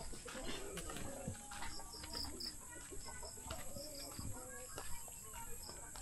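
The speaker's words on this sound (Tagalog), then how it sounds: "Marinig mo na lang yung mga tunog ng ano, mga huni ng kuliglig." Crickets chirping at a campsite at dusk, a steady high trill in the background, joined by scattered bird calls and faint rustling in a quiet outdoor setting.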